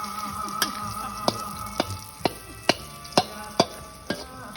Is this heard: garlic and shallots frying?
yes